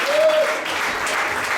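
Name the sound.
congregation applauding the Lord in church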